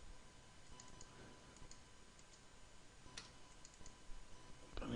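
Light, quiet keystrokes tap on a computer keyboard as a short command is typed in a CAD drawing program, with a couple of louder key presses spaced through the stretch and no talking.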